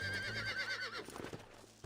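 A horse in the video game Red Dead Redemption gives one loud, wavering whinny for about a second, followed by a few soft hoof clops and snorts.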